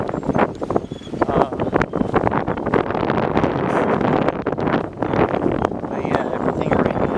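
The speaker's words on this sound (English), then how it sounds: "everything right now, it's just very windy." Strong gusting wind from Hurricane Michael at Sarasota Bay Park, buffeting the microphone in a loud, continuous roar with rumbling low gusts throughout.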